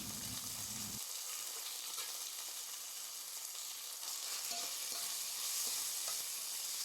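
Chopped tomato hits a hot pan for a fish-head curry, a steady close sizzle of frying with stirring scrapes, a thicker burst at the start then continuous crackle throughout, no voices.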